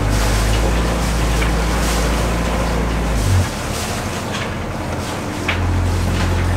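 A sailboat's engine on a 2015 Bavaria 46 Cruiser drones with a low, steady rumble near the microphone, its pitch dipping briefly midway, over splashing water and wind.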